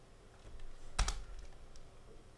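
Keys clatter on a computer keyboard as characters are entered, a few soft taps then a sharp cluster of quick clicks in the middle, close and alone.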